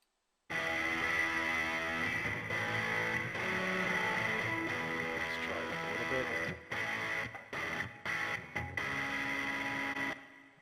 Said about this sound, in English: we'll go with the guitar, we'll add a send, we'll go to reverb